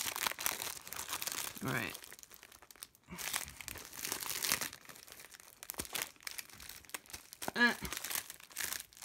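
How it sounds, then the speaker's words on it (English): Purple gift wrapping paper being ripped open, with bursts of crinkling and tearing paper close by, broken by pauses, while a person talks over it. "And it's wrapped in purple, and I'm gonna really rip through it."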